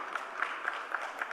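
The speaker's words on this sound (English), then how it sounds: "Can we have a round of applause" An audience at a live conclave claps to welcome a speaker, the applause soft and somewhat distant with a loose, rhythmic patter of hands.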